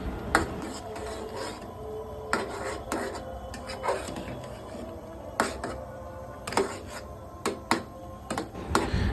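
Spicy Korean ramen noodles being stirred in a pan with a utensil, producing repeated scraping and clinking strokes against the metal at an uneven rhythm, close and fairly clear, with no talking.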